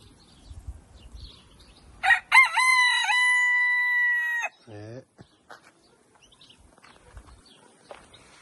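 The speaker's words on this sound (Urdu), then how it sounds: "اور یہ دیسی مرغ" A desi rooster crows once nearby, a loud drawn-out call of about two and a half seconds with rising then falling harmonics, followed by softer clucks and farmyard noise; faint low talk sits before and after.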